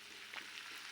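Mint leaves dropped into hot oil for spicy fish biryani, giving a soft, steady sizzle and frying hiss, faint and brief, with no talking.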